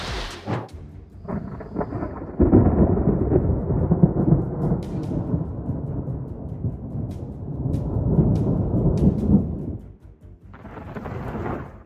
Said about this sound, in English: The sky in Weatherford, Texas, lit up with fierce lightning strikes.